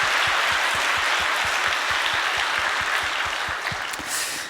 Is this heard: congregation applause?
yes